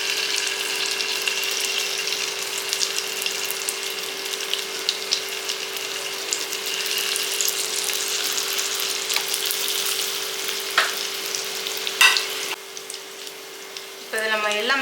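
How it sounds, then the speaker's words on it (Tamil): Banana rava balls frying lightly in ghee, a steady soft sizzle with faint crackling that runs throughout, with a few brief clinks and scrapes near the end. "இது நெய் ஊற்றி சும்மா லேசாக வறுத்துக்கிறோம்"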